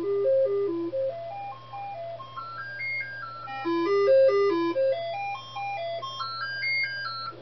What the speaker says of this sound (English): I have installed a replacement SID, and we'll run through the test again and see how this sounds.